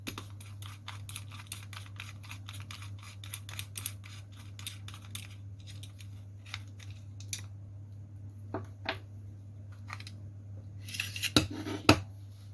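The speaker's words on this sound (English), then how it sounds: "To remove the barrel shroud, simply unscrew the muzzle collar in this way." Small metallic clicks and scrapes as the muzzle collar is unscrewed from a Marushin airsoft replica of the Mateba 2006M 6-inch .357 Magnum revolver, faint and close over a steady low hum, with a few sharper clicks near the end.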